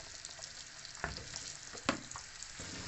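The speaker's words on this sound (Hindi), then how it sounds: "इसकी हम अच्छे से करेंगे भुनाई ताकि इसके अंदर नमी बिल्कुल ना रहे।" Coarsely ground urad dal being dry-roasted in a hot pan for panjeeri, giving a steady faint crackling hiss with a few sharper scraping stirs of a spoon at intervals, no voices.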